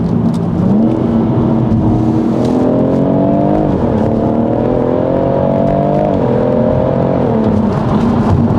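A tuned BMW M140i with an automatic gearbox accelerates hard, its engine note climbing steadily through the rev range with rising harmonic tones and a brief shift dip, loud and continuous with no talking.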